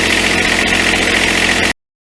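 A Kubota B7100HST-E compact tractor's diesel engine runs at a steady, loud idle with an even low rumble and mechanical clatter, then cuts off abruptly.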